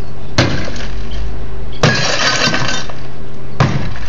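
A hammer strikes a laminated security window, producing three loud, sharp glass impacts spaced about 1.5 seconds apart, each followed by a crackling, splintering ring that fades as the layered pane holds.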